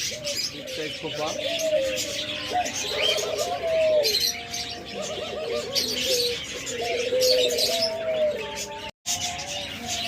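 Pet diamond doves in pairs coo softly and repeatedly, mixed with busy chirps and tweets from other cage birds at close range, plus a brief flutter of wings; a voice talks faintly in the background.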